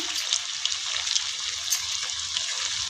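Bread potato balls fry in a batch of hot oil with a continuous close bubbling sizzle and faint crackles throughout, and no voices.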